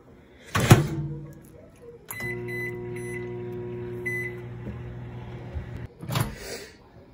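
A microwave door thuds shut, the oven hums steadily with a few beeps, then another door thump sounds at the end.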